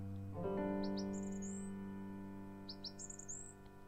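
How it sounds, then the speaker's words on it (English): Birds chirp and twitter in two short bursts of bright, high calls over a steady low hum, soft and at a moderate distance. "the sounds of birds gently singing fills your body"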